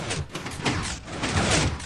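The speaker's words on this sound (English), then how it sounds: "let's just listen to the piston symphony again as the door opens" Pistons in a Minecraft 1.7.3 5x5 piston door, video game, churn in a dense, continuous mechanical rush of overlapping extend and retract whooshes as the door opens, loud and close with no pauses.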